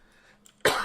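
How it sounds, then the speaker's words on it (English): A single sharp cough lands abruptly and loudly, close into a microphone, after a brief quiet stretch of room noise. "Cough straight into the mic"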